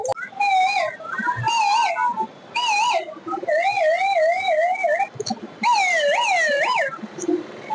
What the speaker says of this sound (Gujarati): 108 એમ્બ્યુલન્સ કોયલ બધી અવાજ આવે છે એમાં.